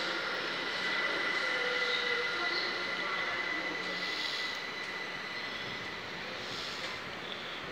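A train at London Victoria station, a steady low rumble and hum of a train idling or moving under the station roof, fairly faint and continuous with a distant echoing ambience.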